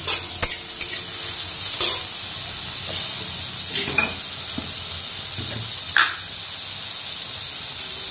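Green chillies fry in a pan with a steady bright hiss, broken by scraping clicks and knocks as a utensil stirs them now and then.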